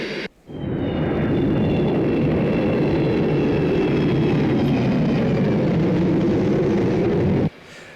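Concorde jet engines in a flight simulator game produce a dense, steady cabin-like roar that cuts in sharply after a brief pause and holds continuously before ending abruptly, loud and unbroken.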